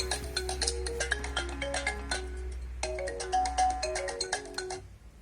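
A phone rings loudly and close by, triggered by the find-phone feature of a BlitzWolf BW-HL3 smartwatch. The melodic ringtone repeats in two rhythmic bursts, then stops.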